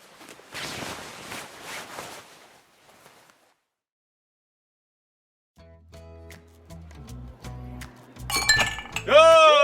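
Glasses clink together in a toast, a sharp ringing chime after a pause, with bright tones rising at the end, preceded by a burst of voices and a stretch of silence.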